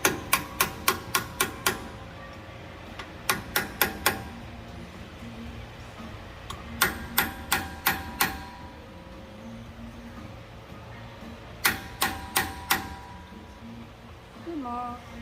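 A hammer strikes a 105 howitzer wheel hub, seating it in place with quick bursts of four to six sharp metallic blows separated by pauses, close and loud, over faint background noise.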